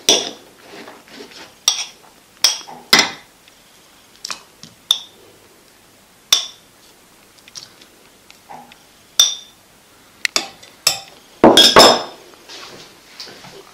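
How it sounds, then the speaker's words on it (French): Utensil clinks and scrapes against a bowl while sugar, softened butter in small pieces, milk and yeast are mixed by hand, giving a string of sharp, close knocks spread irregularly through the stretch with quieter stirring between. "Mélange maintenant bien tes ingrédients."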